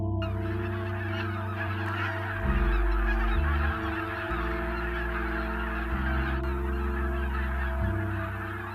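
Geese honk loudly and steadily with repeated nasal calls, alone and close, with no talking.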